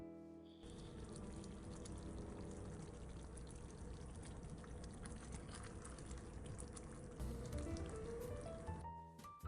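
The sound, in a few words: canned tomatoes poured into pan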